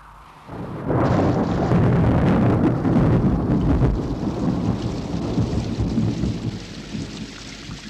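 Heavy rain falls steadily on surfaces while thunder rumbles and rolls loudly, the storm starting abruptly after a moment of quiet and continuing at full strength throughout.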